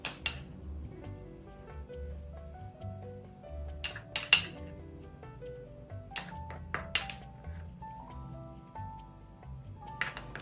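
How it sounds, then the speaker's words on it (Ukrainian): A spoon scrapes and clinks against a bowl while muffin batter with cinnamon and baking powder is stirred, giving a steady run of light, bright taps close up. "Перемішую."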